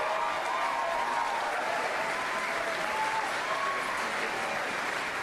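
A large crowd at a Marco Rubio political rally in Las Vegas claps and cheers in a steady, dense wash of applause that holds evenly for several seconds, loud and continuous with no single voice standing out.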